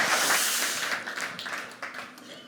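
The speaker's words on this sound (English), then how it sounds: "A big applause to Bob." An audience at a business summit gives a burst of applause that starts strong and gradually fades, with dense clapping filling the hall.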